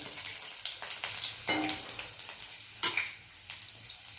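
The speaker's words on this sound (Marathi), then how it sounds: "लसूण थोडासा उधळू" Garlic fries in a pan for a simple wild leafy vegetable dish, giving a steady close sizzle with soft stirring clicks and one sharper scrape near the end, with no voices.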